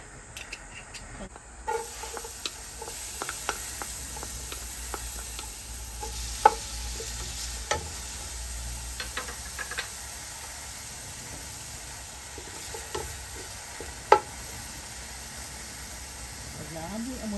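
A pan heating on a lit stove while preparing chicken tinola gives a soft, steady hiss broken by scattered ticks and small crackles, with a few sharper clicks.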